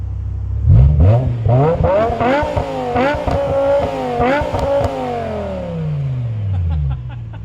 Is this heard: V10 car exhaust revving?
yes